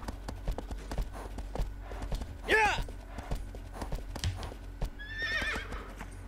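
In the Shadow of the Colossus video game, a horse whinnies twice over a steady clip-clop of hooves, with a person talking faintly underneath.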